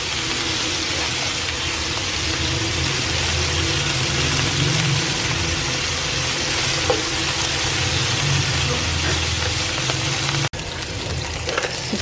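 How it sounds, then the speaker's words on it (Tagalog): Food sautés in a pan with a loud, steady sizzle and frying hiss that runs nearly unbroken, with faint stirring noises. "Tapos, magigisa na."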